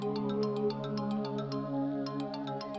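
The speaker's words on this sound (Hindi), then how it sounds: "फोन बज रहा है तुम्हारा" A phone ringtone plays a steady electronic melody with bright repeated chiming notes, fairly loud and close, with no talking.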